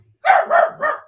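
A dog barks three times in quick succession, loud and close, with the first bark strongest and a short gap before the last, against an otherwise quiet indoor background.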